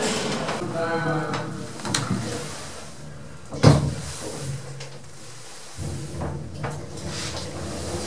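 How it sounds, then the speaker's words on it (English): Doors of a broken 1980s H+C hydraulic lift slide open with a steady mechanical rumble, a sharp clunk partway through and a settling hum after, heard fairly close. "Doors opening."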